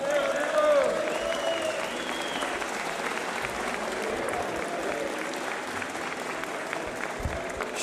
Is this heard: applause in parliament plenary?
yes